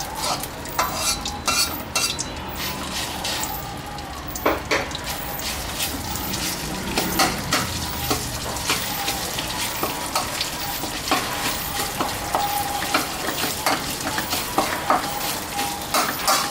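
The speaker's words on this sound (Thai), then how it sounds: "นำเครื่องแกงลงไปผัดนะฮะ ต้องใช้ไฟอ่อนนะครับ" Curry paste for a spicy fried-catfish stir-fry sizzles over low heat while being stir-fried, a loud close crackle under constant rhythmic scraping of a spatula against the pan, no speech.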